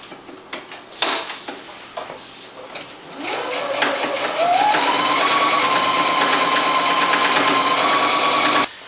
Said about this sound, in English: use the floating arm feature of this machine, which gives me a way to just slip the sleeve right into here and then sew right onto it